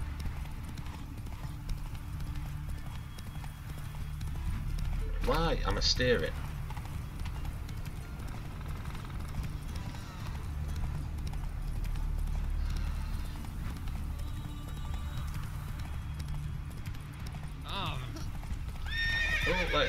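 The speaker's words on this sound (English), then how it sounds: "Ooh, wild horses." Wild horses in The Witcher 3 neigh and whinny in a few sharp bursts over steady hoof clip-clop and a low game ambience, while someone talks over them.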